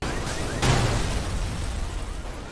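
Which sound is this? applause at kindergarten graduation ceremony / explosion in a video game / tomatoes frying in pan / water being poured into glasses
explosion in a video game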